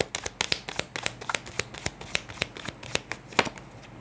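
Tarot cards are shuffled and handled close to the microphone, a quick run of crisp, irregular snapping flicks and soft riffles with no talking over them.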